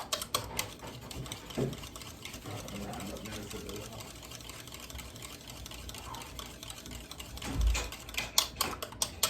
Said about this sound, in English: I needed to mix this out a little, beat the yolks out, and then I will add the liquid to the sugar.